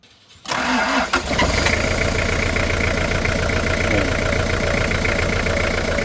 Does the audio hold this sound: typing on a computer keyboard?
no